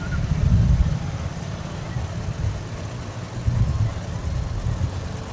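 Low rumbling tractor engine, a John Deere rolling past in a town parade, steady and fairly close with pulsing low-end chugging and crowd ambience throughout.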